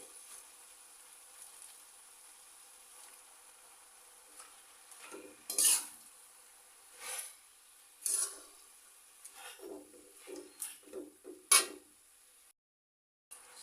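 Fresh spinach going into a pan after fried puti fish are lifted out, a soft background sizzle broken by several sharp clatters and scrapes of a utensil against the pan, close but quiet overall.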